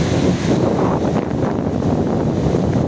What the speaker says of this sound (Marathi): लाटा बघा किती मोठमोठ्या लाटा आहेत आता